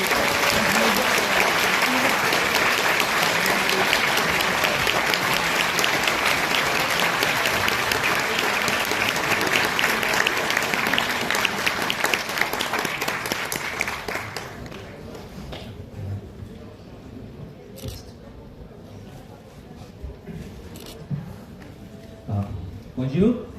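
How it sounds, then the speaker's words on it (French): Audience applause at a conference welcoming Masaaki Yuasa at the Angoulême comics festival, a sustained dense clapping from a large crowd for about fourteen seconds that then drops off to sparse scattered claps and quiet room noise. "sous vos applaudissements, je vous demande d'accueillir Masaaki Yuasa"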